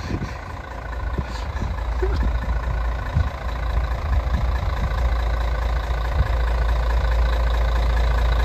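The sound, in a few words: yellow bus engine idling at stop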